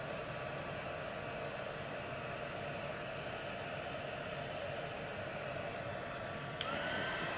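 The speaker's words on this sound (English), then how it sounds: "I do notice that this heat tool takes a lot longer than my other heat tool." A craft heat tool blows hot air in a steady, faint hiss like a small hair dryer, running unbroken, with a brief click and slight change in tone near the end.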